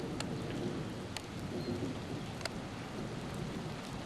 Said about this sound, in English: And it's actually raining finally.